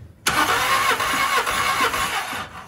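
A 2011 Volkswagen Polo 1.6 CFNA engine cranks on the starter during a compression test, a loud rhythmic churning with regular compression pulses that begins abruptly and runs steadily for about two seconds.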